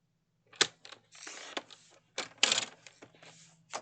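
Scissors or a paper trimmer slice through a light colored cardstock mat in short, crisp cuts and rustles, with several separate strokes heard close up against a quiet background.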